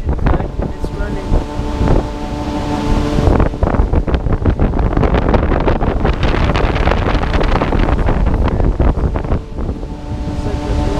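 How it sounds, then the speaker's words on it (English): A very large kitchen-type exhaust fan runs loudly at a hotel, its rushing, roaring airflow filling the space continuously with some buffeting, as from a blower fan heard up close. "here's a really big exhaust fan with the kitchen kind, and it's running."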